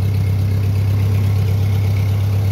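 A Ford 8N tractor engine runs steadily at close range, a loud low droning hum with an even pulse and no pauses or voices.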